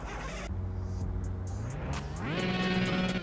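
A BMW E36 race car engine in a video game cranks and turns over, then settles into a rising idle hum with some whine; no voices.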